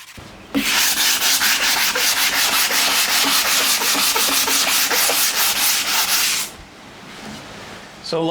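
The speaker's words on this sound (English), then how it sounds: "Just gonna keep that damp and with vinegar while I sand" Hand sanding of an old wooden door kept damp with vinegar: a loud, close, rhythmic rasp of back-and-forth strokes for about six seconds, then stopping to quiet room tone.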